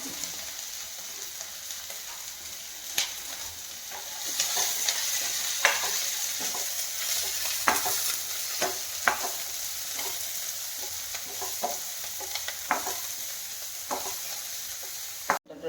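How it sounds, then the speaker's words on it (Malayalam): Onion, ginger and green chili sautéing in a pan for an idli dish, a steady loud sizzle with frequent scraping and stirring knocks of a spoon, and a sharp clatter at the end, no talk. "ഇനി ഇഞ്ചി പച്ചമുളക് എല്ലാം ഒന്നിട്ടിടാം സവാള ഞാൻ ഒന്ന് വാട്ടണം"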